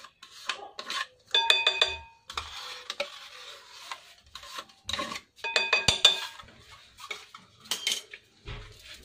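Yogurt being mixed with orange and other ingredients, a spoon clinking and scraping against a bowl in repeated close, bright strokes with brief pauses, no voices.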